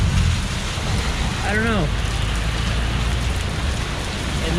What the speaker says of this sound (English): But today, it's really raining.